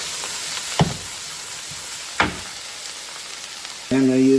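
Diced onions fry in a skillet with a steady close sizzle, broken by a few brief scraping stirs and a louder burst near the end.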